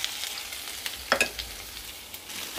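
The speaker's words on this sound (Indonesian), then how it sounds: "minyak yang udah panas terus di aduk-aduk sebentar digoreng-goreng sebentar" Chopped tomatoes with sugar frying in hot oil for a Hong Kong-style tomato and egg dish, giving a faint steady sizzle with soft scraping stirs and a couple of brief louder clatters around the middle.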